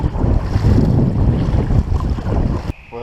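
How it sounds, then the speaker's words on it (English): Strong wind buffets the microphone during a kayak session on the Werribee River, a loud continuous roar with gusty swells that drops away abruptly near the end to a quieter tonal hum. "even though it was bloody windy tonight"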